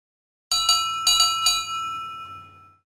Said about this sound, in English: Toby's bell is broken. You fixed it!